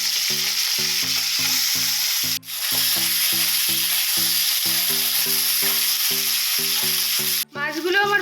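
Pomfret fish fry in hot oil in a kadai, a loud continuous sizzle with a rhythmic scraping pulse and two abrupt brief breaks, no talking.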